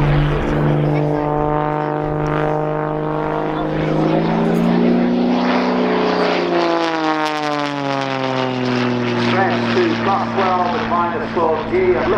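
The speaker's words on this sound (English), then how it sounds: "Incredible amount of power to be able to do that maneuver, come almost to a stop and then fly away inverted" An Xtreme Air XA41 composite aerobatic propeller plane performs at an airshow, its engine droning loud and steady with rising and falling pitch through the maneuver while a commentator talks over it.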